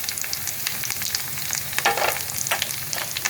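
Flattened rice poha with sugar, salt, turmeric, leaves and nuts being stirred as it fries, a steady sizzle with rhythmic scraping and a few louder spatula strokes, close and without voices.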